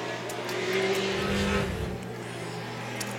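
A race car running a timed lap on an oval track, heard from trackside as a moderately loud engine drone that swells and then eases as it rolls through the turns, with no talk.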